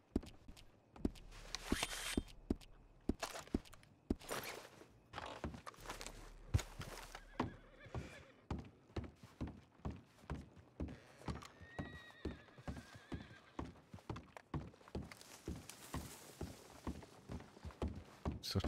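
A horse in the Red Dead Redemption 2 game walks with steady, evenly spaced clip-clop hoofbeats, heard quietly and at a distance, with a possible whinny among the footfalls.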